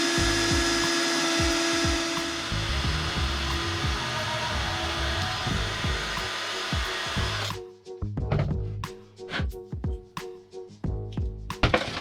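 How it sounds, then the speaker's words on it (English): A power drill whirs steadily for several seconds, drilling a small hole in the center of a camera body cap, then stops, followed by scattered clicks and knocks of handling. "you'll need to drill a small hole in the center of your body cap."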